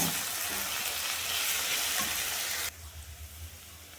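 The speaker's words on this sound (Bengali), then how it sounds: "পেঁয়াজটা দিয়ে ভালো করে একটু ভেজে নেব" Chopped onion dropped into hot oil already browned with sugar and cloves, for a pointed gourd and prawn curry, makes a dense, loud sizzle that suddenly drops to a softer, steady frying hiss near the end.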